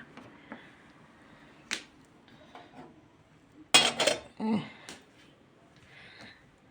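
Small metal teapots are set down on a gas stove, giving a few sharp clinks and clatters, a louder cluster of metallic knocks near the middle, close and otherwise quiet.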